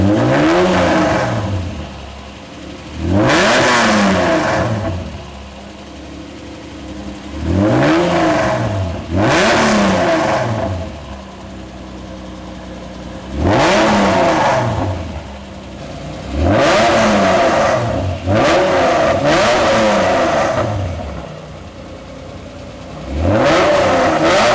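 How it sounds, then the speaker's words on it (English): A Honda NSX engine revved repeatedly while stationary, loud and close, each rev climbing sharply and falling back to idle, about six blips spread through a steady idle. "Rev it up."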